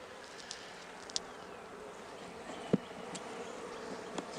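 Honeybees buzzing around an opened overwintered hive, a soft continuous hum of many wings with a few brief louder buzzes as individual bees pass close to the listener.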